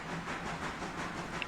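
A freight car rolling on the rails with a steady hissing rumble, a low continuous tone and faint clatter, close and even for the short stretch, no voices.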